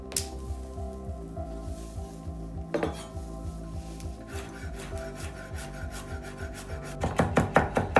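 A knife finely minces fresh parsley on a board in quick, rhythmic chopping strokes. The tapping runs steadily and close, then builds into a louder, denser flurry of chops near the end.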